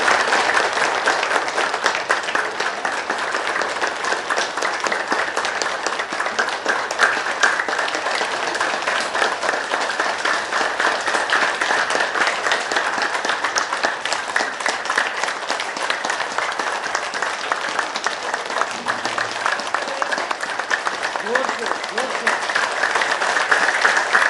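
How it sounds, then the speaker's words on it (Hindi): Audience applause at a New Diet System lifestyle session in Sirsa, Haryana: dense, steady clapping from many hands that holds at an even level for the full stretch, with no break or fade. "ये थोड़ा ताली बजा देंगे"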